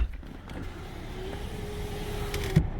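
Electric power window motor in a 2006 Dodge Charger, a faint steady whir running about two seconds before stopping with a soft clunk, recorded close inside the car.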